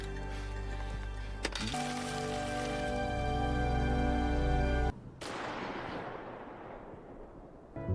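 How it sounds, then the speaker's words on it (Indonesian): A single gunshot rings out from a cabin in a film, cracking sharply through a sustained musical drone. The shot cuts the music off and leaves a hissing, decaying rumble. "Emma pun kaget saat mendengar suara tembakan dari arah kabin"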